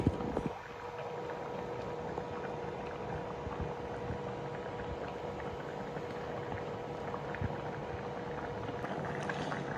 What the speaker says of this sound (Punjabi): ਥੋੜਾ ਜਿਹਾ ਤੇਜ਼ ਕਰਕੇ ਆਪਾਂ ਉਹਨੂੰ ਫੁੱਲ ਰਿੱਝਣ ਦਿੰਨੇ ਆ